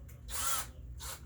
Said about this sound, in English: Which way is your drill turning?